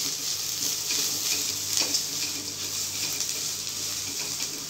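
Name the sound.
coconut being lightly fried in a pan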